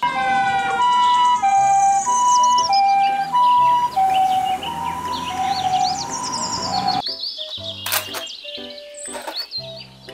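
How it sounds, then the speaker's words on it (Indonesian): A toy ambulance plays a loud, repeating electronic two-tone siren for about seven seconds. It then cuts to sparse chirping toy sounds and clicks. "Mobil ambulans."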